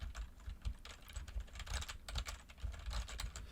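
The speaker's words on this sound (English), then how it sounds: "now I am going to type on my keyboard" Steady typing on a computer keyboard, picked up close by a fifine K669B USB microphone on a desk: quick, dense clicking keystrokes running continuously for a few seconds with no voices.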